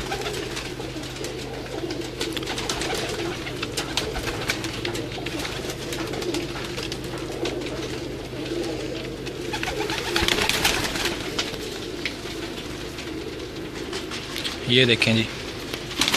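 A group of pigeons coos softly and steadily nearby, low throaty calls repeating throughout, while someone speaks over them and a brief fluttering clatter comes near the end.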